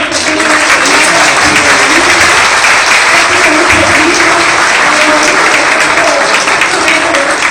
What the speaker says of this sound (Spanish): Les pedimos un aplauso fuerte para el doctor